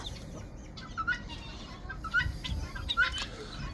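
A guinea fowl hen on a farm gives several short, thin calls at a moderate distance over steady background noise, with no one speaking.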